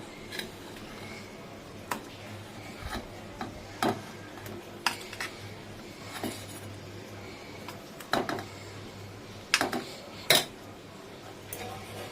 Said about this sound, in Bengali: এই যে চামচটা দিয়ে আমি মেশাচ্ছি